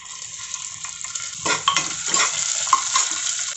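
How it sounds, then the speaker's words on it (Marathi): Onion and tomato sauté in a pan for a chickpea bhaji. A soft sizzle builds into louder stirring, with a spoon scraping and clattering against the metal pan from midway on, close and without voices. "कांदा गुलाबी होईपर्यंत परतून घेऊ चांगला।"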